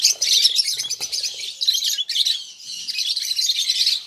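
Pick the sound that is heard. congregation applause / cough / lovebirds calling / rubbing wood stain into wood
lovebirds calling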